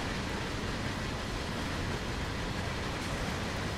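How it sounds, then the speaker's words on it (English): Railroad train in Train Sim World rolling steadily, a dense continuous rumble and hiss of wheels and engine holding at an even level throughout with no talk. "You just hear the sounds of the railroad."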